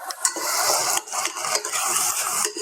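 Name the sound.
stirring beans in a pan for nachos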